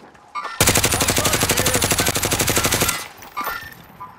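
Call of Duty: Warzone gunfire: a loud, sustained rapid-fire automatic burst of about two seconds, followed by a couple of short, quieter shots.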